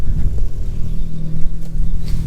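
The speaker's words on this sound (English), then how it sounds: "I don't want to keep the car running because I'm not sure what the noise is" An Audi S3 replica car idles with an unidentified noise from the engine, a steady close, loud low rumble with a faint tonal hum and no talking.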